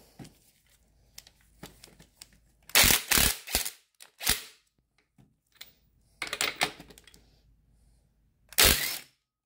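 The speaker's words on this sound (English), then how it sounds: "I'm just gonna hit them with the impact and they should all come off pretty easily." Impact wrench removing the front motor mount bolts on a 2013–2018 Ford Focus ST, heard as several loud, short bursts of rattling hammering with quiet pauses between them, close by and without talk.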